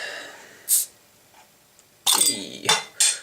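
A bottle of Nøgne Ø Dark Horizon 4th Edition beer is popped open, giving a sharp hiss and clink, then a pause before a louder burst of fizzing and glassy clinks as it is handled and poured.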